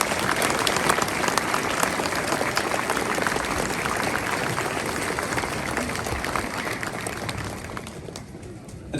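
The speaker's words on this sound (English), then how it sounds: "Give this gentleman a round of applause," Sustained applause from a crowd at an outdoor VE 80 street tattoo opening ceremony in Kilkeel, a dense wash of clapping holding steady for most of the span before gradually thinning toward the end.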